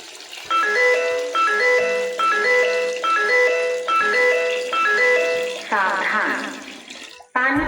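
An Anchor by Panasonic water tank overflow alarm bell plays a repeating electronic chime melody, a bright tune looped about five times in quick succession, followed by a short burst of other tones.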